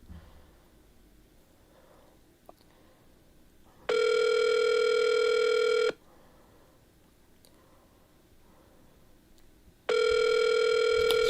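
A telephone ringing on a call placed through a phone, two long steady electronic tones about six seconds apart, clear and loud against a quiet background.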